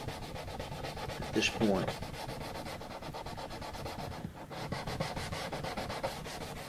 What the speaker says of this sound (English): You don't want to get aggressively sanding and ruin your measurements.